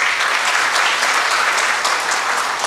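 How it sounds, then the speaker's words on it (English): A conference audience breaks into loud, sustained applause, a dense steady wash of clapping that fills the whole stretch with no voices over it. "A big round of applause for them."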